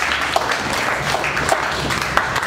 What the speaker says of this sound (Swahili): Hebu mpigie Yesu makofi